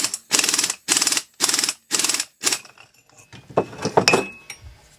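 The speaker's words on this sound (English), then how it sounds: "Take my impact wrench" An impact wrench hammering off a wheel bearing nut during a Saginaw steering gear rebuild, five loud, evenly spaced rattling bursts followed by scattered metallic clinks and clatter.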